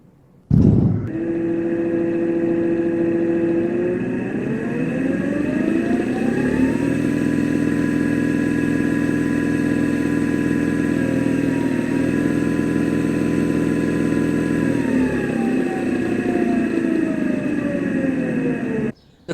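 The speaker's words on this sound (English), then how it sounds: "Now let's test this bigger motor." A large 12-volt, 22-amp permanent magnet DC motor runs on 36 volts, starting with a sharp click and spinning up into a loud, steady high-pitched whine with a rising tone, holding at full speed until cut off abruptly.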